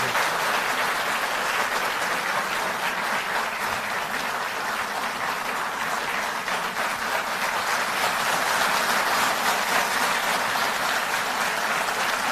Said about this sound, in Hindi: तालियां बजती रहें जब तक सर यहां पहुंचे।